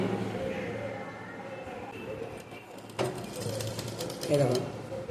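An electric sewing machine stitches palazzo pants along the elastic waistband, a steady rapid mechanical whirr and clatter that speeds up near the end, with someone talking over it.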